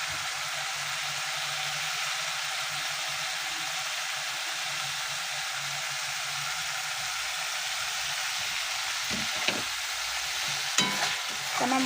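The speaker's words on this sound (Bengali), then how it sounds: "মশলাটা ভালো করে কষিয়ে নেব।" Spice paste for an egg curry fries and gets stirred in a pan, a steady close sizzle with occasional spoon scrapes and clinks toward the end.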